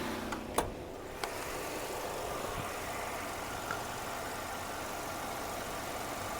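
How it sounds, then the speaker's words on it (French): A 2014 Hyundai Sonata engine idles under an open hood, a steady low mechanical hum with a couple of faint clicks near the start and no talk over it. "ça c'est le moteur."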